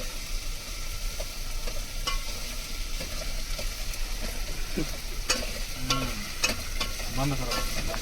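Onions are stirred with a spoon in a sizzling pan, with steady frying hiss underneath and scattered scraping clicks of the spoon against the metal, close and continuous, no talking.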